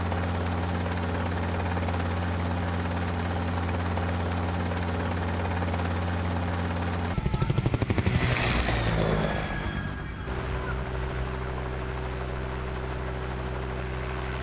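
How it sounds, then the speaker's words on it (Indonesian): A navy helicopter flies over a pirate camp at sea, its steady rotor and engine drone loud and continuous throughout, swelling briefly with a closer, rougher burst of rotor noise before settling back to a constant hum. "Tetapi dia masih mengirim helikopter untuk mengumpulkan beberapa informasi"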